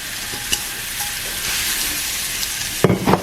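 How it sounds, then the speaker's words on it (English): Zucchini sizzling in a hot pan while being cooked for a healthy dinner, a steady loud frying hiss with light crackles and a couple of stirring clatters near the end. "And then I'm gonna just add the zucchini in there."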